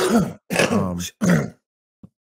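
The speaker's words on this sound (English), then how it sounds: "It's a bad cough." Someone close by gives three harsh, throaty coughs in quick succession, followed by a tiny grunt.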